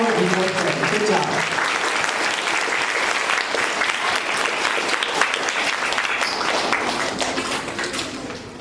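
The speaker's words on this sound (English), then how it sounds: "All right, clap again." Students and families clapping at a school award ceremony, sustained dense applause from a room full of people lasting several seconds, with a voice briefly speaking underneath early on.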